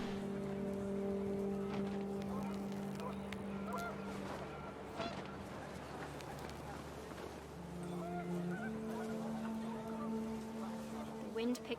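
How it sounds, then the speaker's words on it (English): Panicked geese honk in the video game What Remains of Edith Finch, a rough flurry of calls rising over steady wind and low ambient tones that run through the whole scene. "The wind picked up and panicked geese appeared and quickly went."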